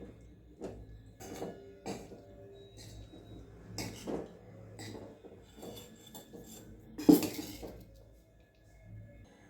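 A spoon mixes corn spinach rice in a pot or bowl, giving scattered soft scrapes and light clinks at an uneven pace, with one sharper clatter near the end. The sounds are close and fairly quiet, with no voices.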